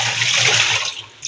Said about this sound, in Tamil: கழுவி கொஞ்சம் பானையில் தண்ணி பிடிச்சிடலாம்